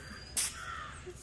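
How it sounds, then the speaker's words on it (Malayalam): A single sharp crow caw rings out briefly from a moderate distance in a quiet village setting, with faint background birdsong around it. "നാടിൻ്റെ ഒരു ഭംഗി കിളികളുടെ ശബ്ദം"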